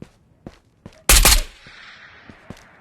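Gunfire in the video game Ghosts of Tabor: a loud burst of several rapid shots close by, trailing into a fading echo, with faint footsteps or taps before and after.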